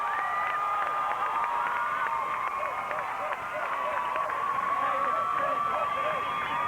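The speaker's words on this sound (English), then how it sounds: "The crowd from Althoff on their feet, and Gomrich has an RBI triple" Home crowd from Althoff Catholic on its feet cheering at a 1991 high school boys baseball championship after an RBI triple, a sustained roar of shouts and whoops with a play-by-play voice over it.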